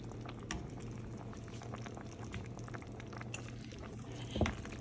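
A pot of minestrone soup with penne simmers at a steady rolling boil, a continuous close bubbling and faint patter running evenly throughout with one slightly louder burst near the end.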